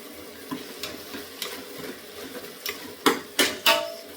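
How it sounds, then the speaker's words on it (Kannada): Fenugreek masala with a little garam masala fries in a pan while a spoon stirs it, giving soft sizzling and scraping strokes that grow louder toward the end, with no voices. "ಈಗ ಚೆನ್ನಾಗಿ ಫ್ರೈ ಮಾಡೋಣ."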